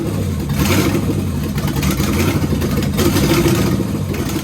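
A C3 Corvette with an LT engine swap cranks and fires up, then settles into a loud, close, throaty idle with blips of revving and some mechanical clatter.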